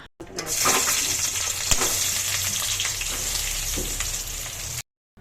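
Onions and green chilies fry in hot oil in a kadai, giving a loud, steady close-up sizzle that starts abruptly and runs unbroken for several seconds before cutting off.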